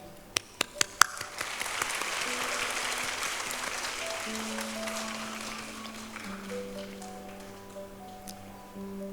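An audience at a school annual programme applauds: a few sharp, separate claps open into a sustained wash of crowd clapping that slowly thins, with faint steady tones running underneath.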